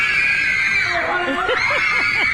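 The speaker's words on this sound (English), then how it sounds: "Wonder if they have to practice the screams, right?" Teenage girls scream shrilly and continuously during a stage performance of the musical Bye Bye Birdie, a dense crowd of high, wavering voices with bursts of giggling and squeals, loud and unbroken throughout.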